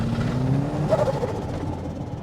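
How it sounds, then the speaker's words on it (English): A modified mini truck engine revs hard during a burnout on dirt, rising in pitch as it accelerates, loud and close over a short burst with no talking. "Well, it does burnouts on dirt again."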